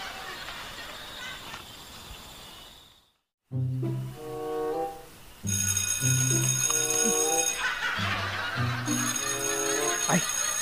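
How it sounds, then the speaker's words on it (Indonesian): A telephone rings in repeated tonal bursts after a brief silence, fairly close, with a voice speaking among the rings. "Tuh, ini Soki telepon"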